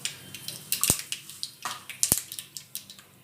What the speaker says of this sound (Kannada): ನೋಡಿ ಫಸ್ಟ್ ಸಾಸಿವೆ ಹಾಕ್ಕೊಳ್ತಾ ಇದ್ದೀನಿ